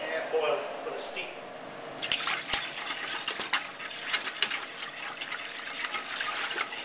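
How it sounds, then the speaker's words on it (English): Spiced liquid mixture being stirred in a pot before boiling, with liquid sloshing and dripping close up alongside clinks from a utensil. "So let's get this mixed up and boil it for the steep."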